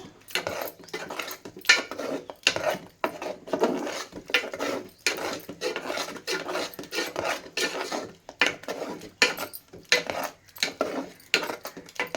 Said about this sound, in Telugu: ఇలా చెంచాతోనే మెదపాలండి.